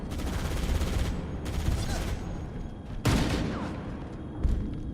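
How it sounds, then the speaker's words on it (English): Rapid gunfire bursts in a shooter-style video game, dense continuous shots with sharper loud cracks standing out near the middle and end, fairly close and loud throughout. "Taking fire. Just keep shooting."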